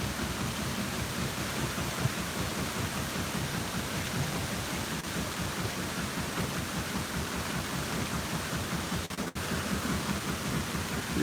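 Water pours and drips steadily off the opening guillotine gate of an Erie Canal lock, a dense continuous splashing rush that sounds close and fills the whole clip.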